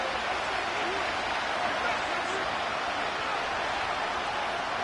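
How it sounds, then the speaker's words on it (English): Broad stadium crowd roar from the Madden NFL 25 football game, a steady, hissing wash of cheering that stays constant throughout without distinct peaks. "This crowd turning up the decibel level"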